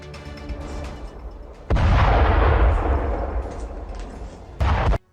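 An attack on the port of Odesa, with a deep roaring blast that swells and rumbles for several seconds, then a second sharp loud burst just before the end, heard without speech.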